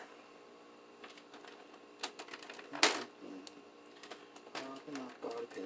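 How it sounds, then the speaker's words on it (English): Plastic body pins are popped off a Traxxas Slash 2WD RC truck, giving a scatter of small, sharp clicks and snaps with one louder snap in the middle, under quiet talk. "Let's pop these pins off."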